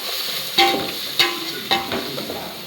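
Ginger fries in a pan for chicken dum biryani, with a soft continuous sizzle broken by three or four sharp scraping strokes of a spoon being stirred, close and clear with no talking.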